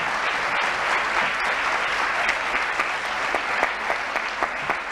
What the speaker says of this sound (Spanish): un gran aplauso para ellas